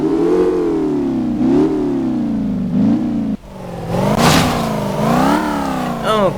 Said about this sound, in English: Now with the engine on, I'm just going to let you listen to it a little bit.